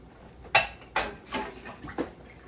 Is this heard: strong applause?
no